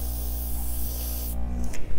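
Airbrush spraying acrylic paint, a steady close airy hiss with a compressor hum beneath that cuts off near the end, followed by faint clatter.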